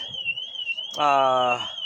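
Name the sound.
alarm going off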